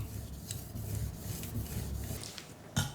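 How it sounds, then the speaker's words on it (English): A knife blade is stropped on a natural Japanese whetstone with soft, rhythmic rasping strokes, faint and close, with a sharper scrape near the end. "I'm going to strop on the stone for 10 on each side"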